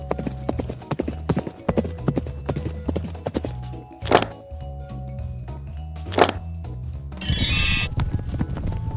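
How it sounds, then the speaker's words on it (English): Horse hooves clip-clop in a steady rhythm, interrupted by two sharp bursts and a brief whinny, with a bright clatter near the end, close and clear with no talk. "It's a horse!"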